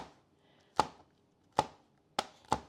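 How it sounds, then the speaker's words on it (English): Knife cutting banana peppers into thin slices on a board, four distinct sharp chops at an uneven pace, close and clear against a quiet background, with no speech. "I'm going to slice these up until about 1/8 of an inch thick"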